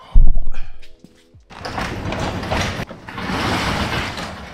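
A residential garage door with torsion springs is heaved open after a few clunks, giving a long loud rolling rumble of panels riding the tracks, a brief catch, then more rumbling travel.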